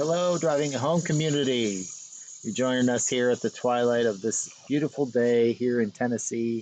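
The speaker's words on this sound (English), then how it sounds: "As you can hear the cicadas singing behind me." Cicadas buzz in a steady, high-pitched drone at twilight on a Tennessee evening, persisting in the background beneath someone speaking close to the microphone.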